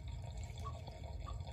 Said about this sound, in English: got water flow going out through there and out the drain. It's coming down out of the tray